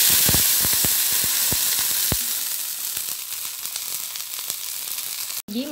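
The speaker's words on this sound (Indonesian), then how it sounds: "Tumis bawang terlebih dahulu. Lalu kemudian masukkan air." Onions sautéing in a pan for a spinach vegetable dish, a steady loud sizzle with scattered pops and crackles that gradually eases into a softer, even hiss after water is added.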